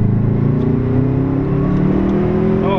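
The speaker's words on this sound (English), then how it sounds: "I'm doing my first pull. I'm in second gear." A car with an Invidia full exhaust and Cobb Stage 2 tune pulling hard in second gear, a loud close engine drone rising steadily in pitch as it accelerates, heard from inside.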